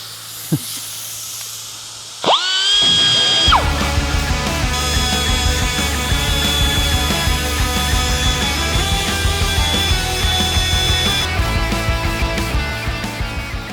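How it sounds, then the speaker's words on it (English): Die grinder deburring a machined cylinder head: a sharp click, then the tool spins up to a loud, steady high-pitched whine with hissing grind noise that carries on close by without pause. "we're just going to deburr the die grinder, and so we don't cut ourselves"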